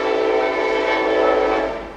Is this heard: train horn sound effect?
yes